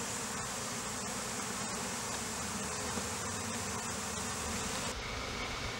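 Dense, steady buzzing of many honey bees up close around a foundationless hive frame beside a feeder, a continuous drone with no voices.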